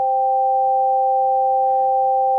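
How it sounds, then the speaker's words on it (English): Two steady, pure synthesizer tones a perfect fifth apart sound together in a clean, unwavering interval, held evenly for a couple of seconds with nothing else present. "That's the sound of a perfect fifth."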